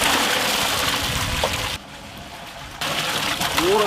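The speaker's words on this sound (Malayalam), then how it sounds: "110 ലിറ്റർ വെള്ളം ഒഴിക്കണം." Water poured from pots into a large cooking pot for a big batch of chicken rice porridge: a steady, fairly loud broadband rush that cuts out for about a second midway and then resumes.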